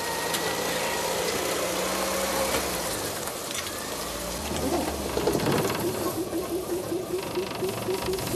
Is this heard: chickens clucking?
no